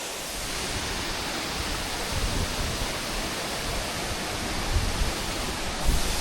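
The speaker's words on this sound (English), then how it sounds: "Whole staircase of waterfalls." The Munduk waterfall in Bali, one of a staircase of falls, gives a steady, loud rushing roar of falling water that fills the whole stretch without pause, with no talk.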